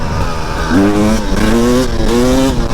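Dirt bike fitted with Nitro Mousse inserts, engine revving loudly up close in several rising bursts as the clutch is worked, the pitch climbing and dropping in steps.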